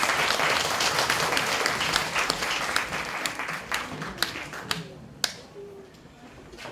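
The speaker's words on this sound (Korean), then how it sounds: "다시 한번 박수 한번 부탁드리겠습니다" An audience at a youth unification debate contest final for elementary students claps steadily, the applause thinning out with a few last scattered claps near the end.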